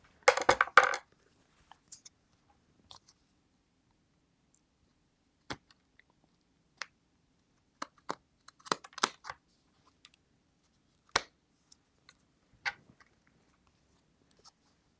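Sparse, sharp snips close by, scattered irregularly with quiet gaps between them, like scissors cutting through paper.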